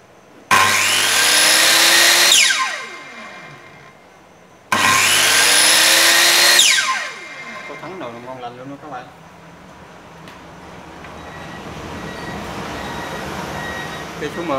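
Two loud bursts of a battery-powered electric saw cutting wood, each running about two seconds and winding down, followed by quieter rumbling and clatter.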